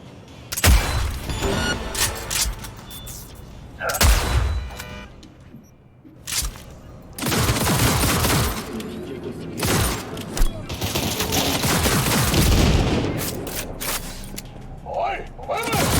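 Gunfire from a weapon in the video game Cyberpunk 2077, with loud bursts of rapid shots in several volleys and short pauses between, plus mechanical clicks and game sounds under it.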